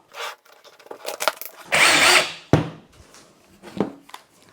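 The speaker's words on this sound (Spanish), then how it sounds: "hacemos un taladro aquí aproximadamente que haya una distancia de unos 3-4 milímetros." A power drill boring a small hole into a plastic freezer drawer, short bursts of whirring and grinding close up with a louder sustained run in the middle, separated by handling clicks and knocks.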